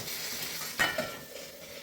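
Hot tempering (oggarane) poured into a ridge gourd curry: a sharp metallic clink from the pan, then a burst of sizzling hiss that slowly settles, close by with no talking.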